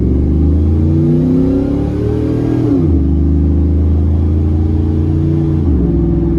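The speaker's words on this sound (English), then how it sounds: "we're definitely gonna see if it'll growl for us" A 2004 Chevrolet Silverado regular cab with a 4.8 V8 accelerates hard, its loud engine rising in pitch, dropping briefly at a gear shift, then climbing again and shifting once more near the end, heard steadily from inside the cab.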